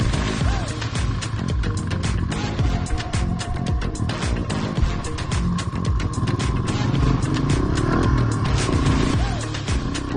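ATVs and three-wheeler trikes grinding along overgrown logging trails in the Chilcotin, engines droning loud and close throughout with constant rough mechanical rattle.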